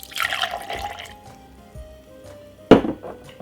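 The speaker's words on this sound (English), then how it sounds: "Then what I'm gonna do is pour it straight inside of this glass." Apple cider vinegar drink poured from a container into a glass, a short liquid splash and clink at the start, a quieter stretch, then a sharper knock-like burst near the end.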